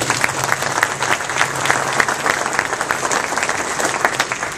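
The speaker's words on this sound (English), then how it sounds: "Let's give him another big round of applause." A crowd at a college and career academy event claps steadily and loudly throughout, a dense, sustained round of applause with no pause.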